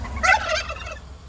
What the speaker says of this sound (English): clearly the turkeys found us